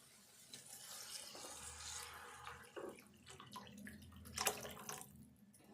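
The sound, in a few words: pouring tamarind water into fish curry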